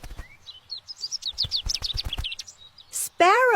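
A sparrow chirps in a quick series of short, high tweets, fairly close, followed by a brief burst of noise and a louder warbling call at the end.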